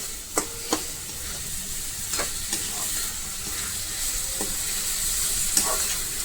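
Corn kernels fry in a pan with a steady hiss and sizzle, broken by a few sharp clinks and scrapes as a spoon stirs them, close and continuous.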